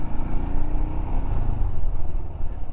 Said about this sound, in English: You certainly get engine braking when you drop it down to first.